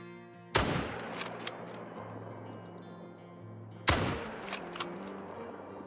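Two sharp, loud rifle shots about three seconds apart ring out in the Call of the Wild hunting video game, each followed by a rolling echo over a steady low ambient hum.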